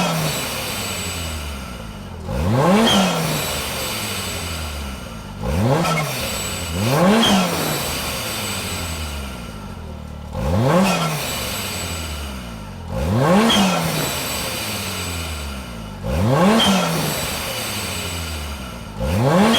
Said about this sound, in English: you've got your RPM V2 blow-off valve installed in your H2. It's time to fire the machine up.